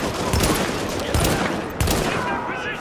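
Bursts of gunfire in The Division video game crack out in three or four loud volleys, with ringing tails between them.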